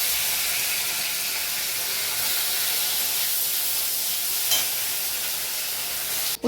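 Paneer pieces and small potatoes frying in oil in a wok give a steady, even sizzle and hiss throughout, with a brief clatter near the end.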